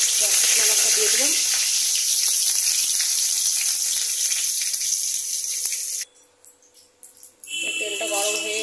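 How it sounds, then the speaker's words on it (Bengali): Cardamom pods, a bay leaf and dried chilli sizzle in hot mustard oil, making a bright, steady crackle. The sizzle drops away briefly near the end, then a louder burst of frying returns. "এখন আমি দুটো এলাচ দিয়ে দিচ্ছি, একটা তেজপাতা, শুকনো লঙ্কা দিয়ে দিলাম।"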